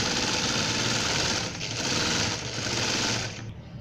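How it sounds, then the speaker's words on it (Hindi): An electric sewing machine runs steadily while stitching a ruffle for an off-white baby frock, a close, continuous rapid whirring hum with slight pulses that drops off abruptly at the end. "अब ये रफल के ऊपर सिलाई लगा लें ताकि आपकी रफल रेडी हो जाए"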